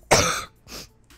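A person coughs twice, close to the mic: a strong harsh burst followed by a shorter, weaker one and a slight throat sound at the end, with no talking.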